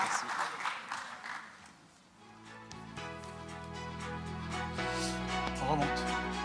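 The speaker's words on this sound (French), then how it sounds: "applaudissement" An audience at a conference workshop breaks into a burst of clapping that thins out as steady musical tones take over. Voices murmur underneath.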